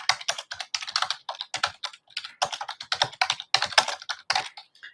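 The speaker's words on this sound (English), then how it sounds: "I just need to type this little welcome." Typing on a computer keyboard, close and clear, with quick bursts of key clicks separated by short pauses and no voice.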